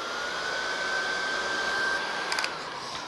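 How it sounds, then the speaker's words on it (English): A hair dryer drying a watercolor painting blows steadily and loudly throughout, a continuous whooshing roar with a faint whine. "and then the hairdryer"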